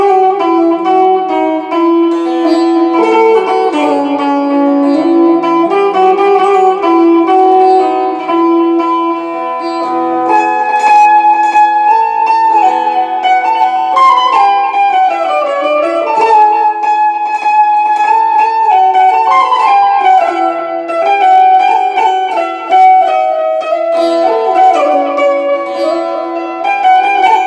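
Electric banjo, a handmade instrument from a Gujarat banjo maker, played through a speaker: a bright plucked melody with sustained notes, loud and close, running continuously with no talking.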